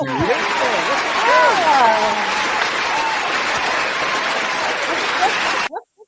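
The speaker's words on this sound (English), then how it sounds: "Oh, we got to do the applause." A canned applause sound effect plays back, a steady wash of crowd clapping with voices talking over it, cutting off abruptly near the end.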